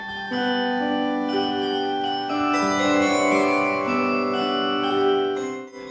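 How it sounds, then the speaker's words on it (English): Carillon bells in a monastery bell tower ring out in sustained, overlapping tones that layer into a rich, resonant wash, played continuously and fading at the end. "playing the Carillon bell system in the bell tower at the monastery next door"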